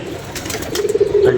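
A pigeon coos close by, a soft throaty warble that swells and repeats in short rolling phrases, clear against a quiet background.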